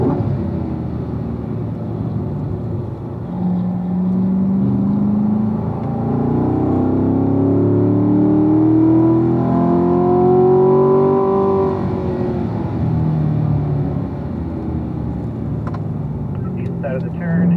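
A race car laps the Ron Fellows track, its engine pitch rising and falling in sweeping tones as it brakes and settles for turn 3, heard from the cockpit under steady talk.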